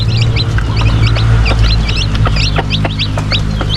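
Mother hens cluck repeatedly close by in a farmyard, their quick rhythmic calls running over a loud, steady low background hum.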